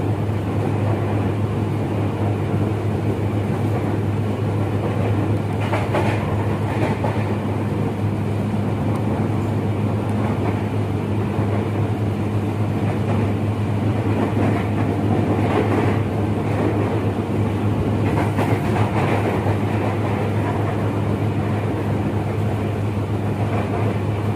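A KRL commuter train in Indonesia rolls along the rails with a steady, loud low rumble and constant wheel noise, with occasional brighter clatter bursts from the track and no voices.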